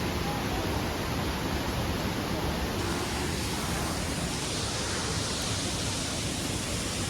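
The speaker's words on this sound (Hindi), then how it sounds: "खाई है, वहाँ भी झरना आ रहा है।" A waterfall in a gorge near Neer Waterfall outside Rishikesh gives a steady broadband rush of falling water. The sound stays constant and close throughout, with no voices over it.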